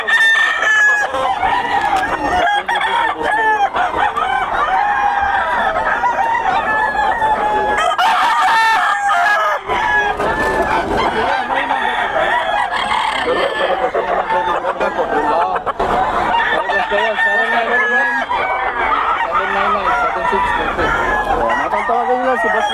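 Kelso sweater gamefowl roosters crow repeatedly and cluck at a poultry seller's market, loud and close with overlapping birds and some background voices throughout.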